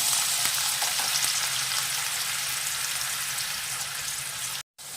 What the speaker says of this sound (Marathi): तेल छान तापलेलं आहे त्याच्यामध्ये हा कांदा परतून घेऊया आपण